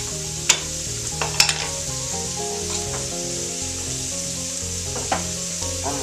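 Risotto rice simmers and is stirred until the liquid is absorbed, giving a soft, steady bubbling sizzle broken by a few sharp clicks of a utensil against the pan.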